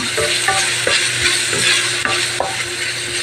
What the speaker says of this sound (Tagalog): Try na natin mag-brown tong ating hotdog.